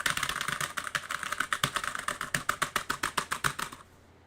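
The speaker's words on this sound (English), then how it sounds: "Are probably typing away at the computers." Rapid, steady typing on a computer keyboard, a quick string of close, crisp key clicks that stops abruptly near the end, with no voices.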